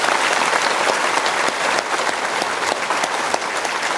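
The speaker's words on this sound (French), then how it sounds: "je vous demande d'applaudir très fort celui sans qui je ne vous aurais jamais rencontré" A theater audience at Le Nautile in La Forêt-Fouesnant applauds comedian Mathieu Madenian at the close of his stand-up show, a loud, thick, continuous wash of clapping from a full crowd.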